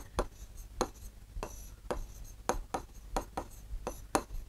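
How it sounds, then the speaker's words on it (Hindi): Pen or pencil drawing a straight line between two points on paper for a geometry construction, a series of short sharp scratching strokes in an uneven rhythm, close and quiet. "F और E को मिलाने वाली एक रेखा खींचेंगे"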